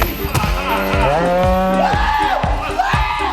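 A cow moos loudly and close in a farm setting, several drawn-out, wavering bellows in quick succession, mixed with thumping impacts.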